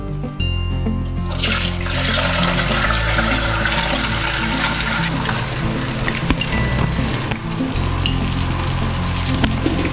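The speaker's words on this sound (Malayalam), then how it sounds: "നമുക്ക് കുപ്പിക്ക് പകർത്താം" Strained homemade beetroot wine pours into a glass bottle, a steady close gurgle and trickle of liquid that runs nearly unbroken from start to finish, with no voices.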